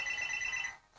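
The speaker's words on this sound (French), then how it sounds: "désolé pour le bruit, c'est le téléphone. Téléphone fixe." Landline telephone ringing, a short electronic trill with bright steady tones that cuts off near the end, moderately loud and alone.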